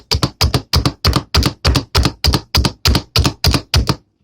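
A knife chops red onion and poblano pepper on a cutting board in thirteen even, sharp strokes about three per second, close and loud with no talking.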